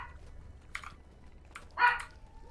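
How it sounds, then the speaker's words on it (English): A dog gives one short, sharp bark close by, preceded by a couple of faint thumps over a steady low hum in a quiet room. "You hear a dog."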